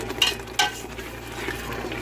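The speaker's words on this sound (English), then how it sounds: "make sure you mix it" A crab dish being stirred and mixed in a pot, with two sharp clinks of a utensil against the pot followed by a low bubbling sizzle and scraping, close by.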